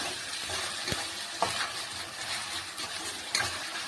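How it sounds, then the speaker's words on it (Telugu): Fresh mint and coriander fry in a pan for chicken dum biryani, giving a steady soft sizzle with occasional stirring scrapes and small clinks, fairly quiet, with no voices. "కొంచెం పుదీనా, కొంచెం కొత్తిమీర, ఇది కూడా మంచిగా వేపుకుందాం ఫ్రెండ్స్"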